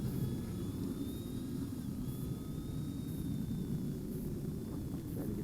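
An eMax EZ Pilot beginner micro FPV drone flies in expert mode, giving off a steady, faint, even whirring buzz of tiny propellers that holds throughout with no talk.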